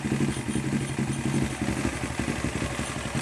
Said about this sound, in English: Engine sounds good mechanically.